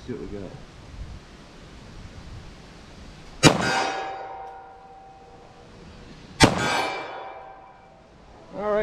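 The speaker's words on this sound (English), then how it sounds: "So fire a couple rounds of 45," .45 ACP pistol fires two sharp, loud shots a few seconds apart, each followed by a ringing metallic clang off a steel target, with someone talking quietly between them.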